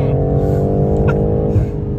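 A BMW M8 Competition's engine holds a loud, steady, throaty drone close by, rising slightly in a brief rev, with a voice faintly present underneath.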